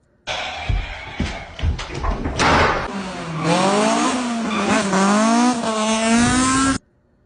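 A car tears away with squealing tires, first a burst of sharp screeches and engine noise, then a loud, rising, wavering tire squeal that holds for several seconds before cutting off abruptly.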